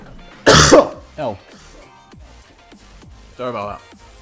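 A man coughs and clears his throat close to the mic during an Overwatch match: one loud harsh burst, then shorter throaty coughs, with game sounds faint underneath.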